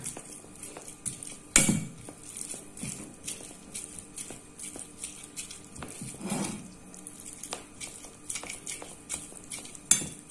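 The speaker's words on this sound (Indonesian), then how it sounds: "Untuk menghaluskannya pakai sendok aja sudah bisa." A spoon scrapes and presses against a bowl in irregular strokes, mashing tofu, with occasional louder knocks of metal on the dish.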